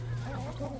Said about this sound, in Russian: Вот курочка стоит.